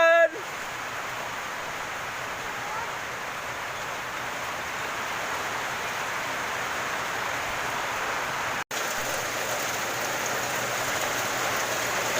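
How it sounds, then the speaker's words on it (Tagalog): Heavy rain pours steadily in a dense, even hiss, close and loud, with a momentary dropout partway through. "malakas yung ulan"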